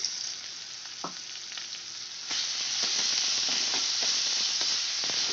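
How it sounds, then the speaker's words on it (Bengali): Two chopped medium onions fry in oil over fried garlic in a pan for chhana and potato tadka. A close, steady sizzle swells louder midway, with faint stirring ticks underneath. "পেঁয়াজটাকে আমি লাল করে ভেজে নেব"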